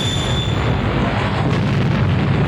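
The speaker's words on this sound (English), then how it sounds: "so it sets it off and it blows up" A car rigged as a booby trap explodes in a Mad Max film, giving a loud sustained rumbling roar with dense low-end debris and fire noise that does not fade across the moment.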